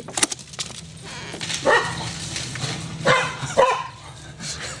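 A dog barks several times nearby, short sharp barks spaced irregularly over a quiet indoor background.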